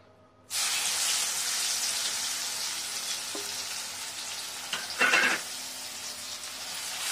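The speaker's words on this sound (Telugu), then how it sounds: "దీంట్లో ఆనియన్ పేస్ట్ వేసేది సార్." Onion paste dropped into hot oil with fried brinjal, bursting into a sudden loud sizzle that holds steady, with a brief louder crackle and stir partway through.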